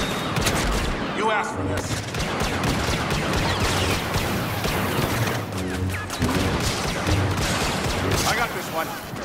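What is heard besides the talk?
blaster fire in video game Star Wars Battlefront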